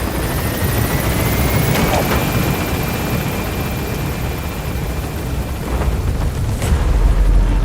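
Pequod helicopter from MGSV: The Phantom Pain climbing away from the landing zone, its rotor wash a loud, steady roar that fills the scene throughout with a few heavier thumps.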